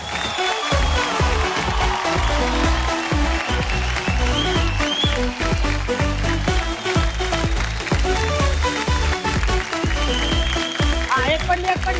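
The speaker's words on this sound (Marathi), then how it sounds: "अरे जोरदार टाळ्या" Loud, dense applause from a television show's studio audience fills the whole stretch, with a host's voice and music layered over the clapping.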